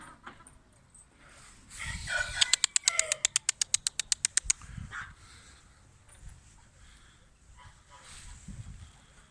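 A dog barks in a quick, evenly spaced burst of about a dozen sharp yaps near the middle, amid faint birdsong and low, indistinct voices at a pigeon-keeping yard.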